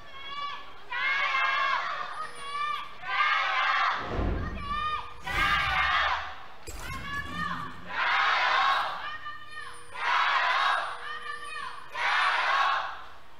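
A large arena crowd at an LPL League of Legends match in Shanghai, Suning Gaming vs. Rogue Warriors, roars in loud rhythmic waves of chanting and shouting, with about eight swelling bursts and short dips between them.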